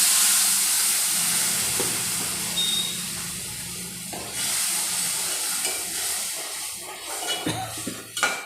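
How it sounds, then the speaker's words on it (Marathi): Ground peanuts tip into a hot pan and are stirred, giving a soft sizzling hiss with faint scraping and shuffling, fairly close, with no talk. "आता आपण हे दळलेले शेंगदाणे त्यात ओतून देऊया."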